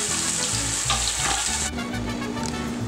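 Peanut butter sauce bubbles and sizzles steadily in a pan, a continuous close frying hiss with soft stirring, no voices.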